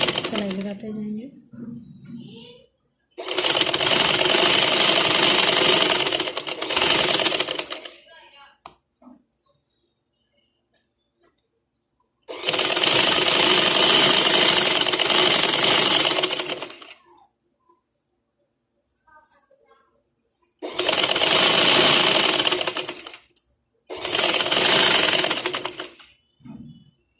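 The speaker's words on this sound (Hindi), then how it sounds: "सिलाई लगाते जाएंगे।" An electric sewing machine stitches lace onto the neckline and hem of a garment in several long, loud, steady runs separated by quiet pauses with brief rustles of fabric.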